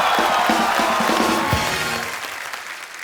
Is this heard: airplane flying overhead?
no